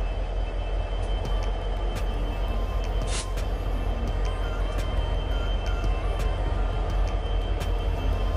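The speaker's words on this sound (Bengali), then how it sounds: "বেশ কিছুক্ষণ অপেক্ষা করার পর অবশেষে ট্রেনের দেখা মিলল" A train pulling into a station on a trip from Shalimar, a steady heavy rumble of rolling wagons with periodic clacks of wheels over rail joints, fairly close and continuous.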